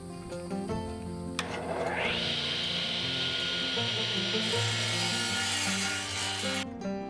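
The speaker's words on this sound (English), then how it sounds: "all I have to do is cut them to length so they fit between the studs" A hand saw cuts wooden boards to length for French cleats with a continuous rasping stroke close by, and other sounds are heard underneath.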